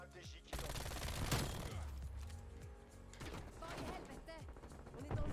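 MAC-10 submachine gun fire in Call of Duty: Black Ops Cold War, with loud rapid bursts that run almost continuously after a brief pause at the start, layered with clattering game effects.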